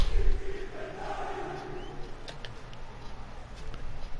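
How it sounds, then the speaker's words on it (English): Juventus supporters chanting in a FIFA 19 video game match, a broad stadium crowd roar with rhythmic chanting that swells at the start and holds at mid volume, with faint ticking and no talk. "there's some mad crowd chanting going on in this game as well"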